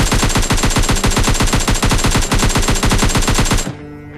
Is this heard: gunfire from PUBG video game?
yes